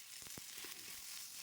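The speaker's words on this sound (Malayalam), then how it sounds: "ഇപ്പോൾ നമ്മൾ കടുക് താളിച്ചിട്ടുണ്ട്" Mustard seeds tempered in hot oil with dried red chillies and curry leaves for sambar give a faint, steady sizzle with a few quick crackling pops, close by and with no talk.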